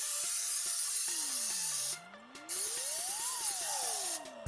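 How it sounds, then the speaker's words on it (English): Cooking spray hissing from a can onto a baking pan, a bright sustained spray of about two seconds, a brief pause, then another short burst, close up with a faint tone underneath. "Make sure to spray your pan."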